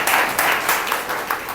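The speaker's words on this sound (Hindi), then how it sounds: "ताली बजा के प्रभु को धन्यवाद।" A church congregation claps in praise during a Hindi sermon, a dense, steady patter of many hands with a few sharper surges, fairly close and without talk.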